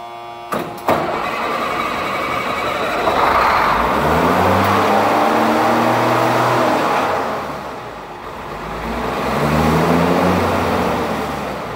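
Military M35A2 truck, sitting unused since 2015, starting up with a stuck throttle: a few cranking clicks, then the engine catches and roars loud and close, rising and falling in slow revving swells.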